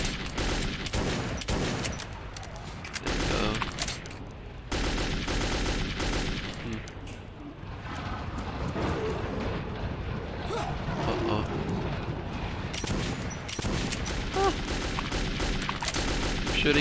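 Sustained gunfire in Metro 2033 against attacking creatures, rapid loud bursts filling the scene almost without pause over a busy, noisy game backdrop, with a voice talking over the action.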